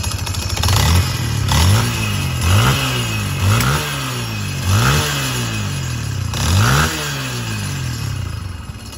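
A street-legal project motorcycle engine in a workshop revs repeatedly, rising and falling in quick throttle bursts over a rough idle, loud and close with no talking.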